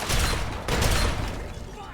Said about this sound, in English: Did you just fire a rocket at that range?